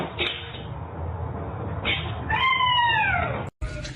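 A cat gives one clear, drawn-out meow that falls in pitch, close to the listener, over a steady background hiss, with a couple of faint thumps earlier.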